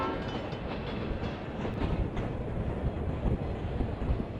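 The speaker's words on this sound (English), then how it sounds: "a 1970-era Zephyr races by" A 1970s-era Zephyr passenger train races by on street-running Western Pacific track in San Francisco, a steady loud rumble and rattle of rail cars with wind noise throughout.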